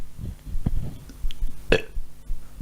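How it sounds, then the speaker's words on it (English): A single loud, close burp goes straight into a microphone. It rises sharply out of low background murmur and fades quickly. "Did you just at burp all. directly into the mic?"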